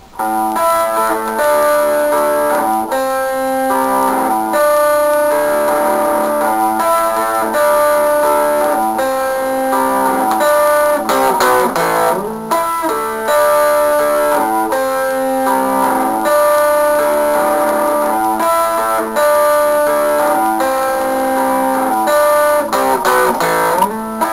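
Electric guitar plays a riff alone, picked arpeggiated notes ringing in a repeating pattern with slides up the strings, steady and upfront for the whole stretch.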